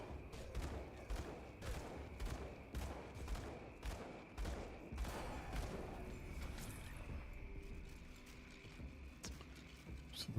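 Rapid regular shots fired at a monster in the action RPG Grim Dawn, a steady rhythmic burst of about a dozen snappy reports over several seconds, then fading into quieter combat ambience.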